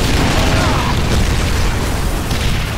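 A loud explosion in a video game, heard as a dense rumbling roar with crackling debris that fills the whole moment at close range.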